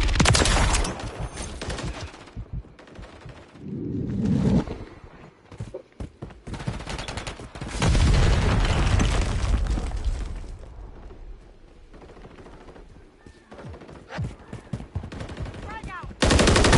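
Gunfire crackles through a Call of Duty Modern Warfare 3 multiplayer match on the Vista Del Mar map, with loud bursts of automatic rifle fire and heavier booming shots in clusters, some close and some more distant, amid game effects and a brief radio-style voice.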